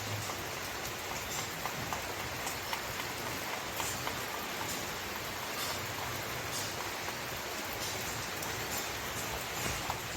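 Rain pours down steadily on a cold, stormy afternoon, a dense, even hiss of drops with faint scattered taps, lasting unbroken and with no voices.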